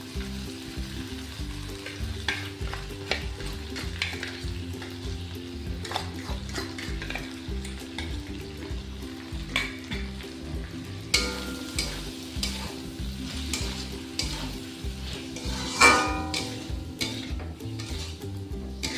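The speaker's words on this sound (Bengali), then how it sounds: "ঢ্যাঁড়সটা নরমও হয়ে গেছে একটু নেড়ে ছেড়ে ওই মিশ্রণটা আমি এবার দিয়ে দেবো" Okra for a doi bhindi dish fried and stirred in a pan, a steady close sizzle with repeated scraping spatula strokes and an occasional clink of metal, continuing without any talking.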